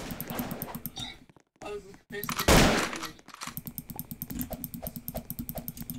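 Rapid rifle gunfire rattles in a video game in quick, evenly spaced bursts, broken by short pauses and one loud blast, with a voice talking faintly in the background.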